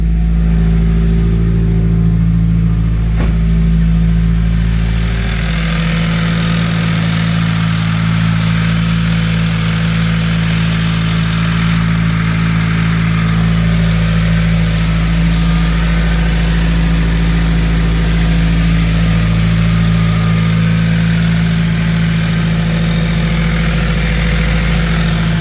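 The engine of a 2021 Subaru WRX runs steadily while being checked for a misfire, giving a loud, close, continuous idling drone with a low rumble that holds for the whole stretch and has no talk over it.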